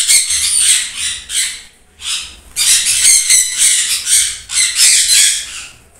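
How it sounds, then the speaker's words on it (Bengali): Pineapple conure parrots, a green-cheeked conure mutation, give loud, harsh squawks in repeated bursts close by, with short pauses between calls and no talking. "পাইনঅ্যাপেল কুনু, এটা গ্রিন চিকেরই একটা মিউটেশন হয়।"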